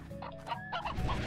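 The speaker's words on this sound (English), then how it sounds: "Random chicken." Chickens clucking in the video game Slime Rancher, a quick run of close, bright clucks and squawks lasting about a second over a steady ambient bed.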